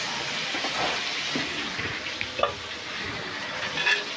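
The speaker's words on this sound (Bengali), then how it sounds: "আলুতে আমি সামান্য হলুদ এবং সামান্য লবণ দিয়ে নাড়িয়ে চাড়িয়ে ভেজে নেব" Potato pieces frying with turmeric and salt in a pan over a medium gas flame, stirred as they cook, giving a steady soft sizzle with scattered scraping and clinking of the spoon against the pan, close by and with no talk.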